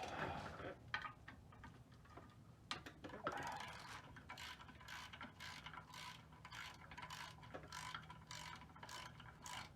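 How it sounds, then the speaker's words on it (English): Ratchet wrench with a 9/16 socket loosening a bolt on a boat's gear case, giving rapid ticking bursts in short repeated strokes close by, fairly quiet with no voices. "you got a bolt that requires a 9/16 socket"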